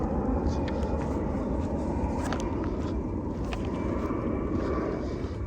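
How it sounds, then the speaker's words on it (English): An airplane drones overhead outdoors near a marsh trail, a steady, broad, moderately faint engine rumble with light footsteps and small rustles mixed in. "There's a plane"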